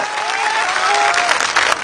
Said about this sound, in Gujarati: આ જામનગરના કરંટને તાળીઓથી વધાવો તાળીઓથી વધાવો